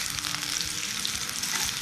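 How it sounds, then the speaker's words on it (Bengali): Sliced onions frying in oil for hilsa fish biryani, a steady crackling sizzle at low volume throughout, with faint stirring. "বেরেস্তাটা খুব ভালো করে ভাজতে হবে যাতে কালারও আসে আর পুড়ে যাতে না যায়।"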